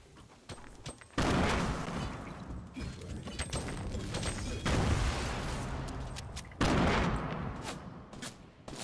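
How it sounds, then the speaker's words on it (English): Dense gunfire in a first-person shooter game, player under attack from several directions without a shotgun; loud bursts of shots and heavy blasts come in waves, with a louder volley around the middle and another near the end. "Getting shot from multiple angles again."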